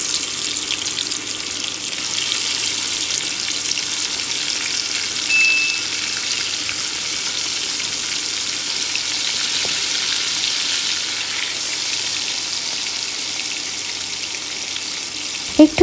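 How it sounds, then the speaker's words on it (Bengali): Marinated surma fish sizzles in hot oil in a wok, a constant hissing, crackling fry that stays even and close for the whole stretch, with a brief clatter at the very end and no talking. "এখন একটা কড়াইতে পরিমাণ মতো তেল দিয়ে গরম করে নিয়ে এর মধ্যে দিয়ে দিচ্ছি মাখিয়ে রাখা সেই মাছ"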